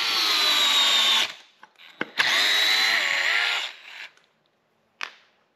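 A DeWalt gyroscopic screwdriver whirs in two short bursts driving a screw, with clicks and a brief final buzz, close and fairly quiet.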